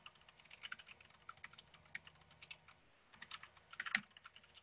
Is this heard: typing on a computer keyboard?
yes